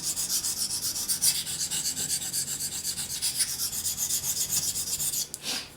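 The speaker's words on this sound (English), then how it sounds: "This knife, initial sharpening for the next hunt." A hunting knife is being sharpened to a V edge with quick, steady rasping strokes repeated many times, close and continuous for several seconds before a brief pause at the end. No one speaks.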